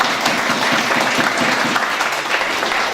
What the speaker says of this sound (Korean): 네, 박수로 부탁드립니다.